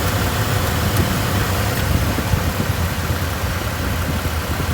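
A 2023 Toyota Tacoma TRD Off-road engine idles steadily during an oil change, a continuous low rumble heard up close and loud, constant in level with no revving and no voices.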